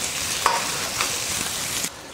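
Pork belly sizzles in a lightly oiled wok in a home kitchen, with a steady frying hiss broken by a few sharp scrapes and clanks of the spatula as it is stirred.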